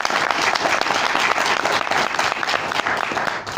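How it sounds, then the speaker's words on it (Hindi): A crowd at a business plan presentation in the Ramada Hotel, Lucknow, breaks into loud, dense applause that stays strong for over three seconds before easing off at the end. "तालियां बजी जी।"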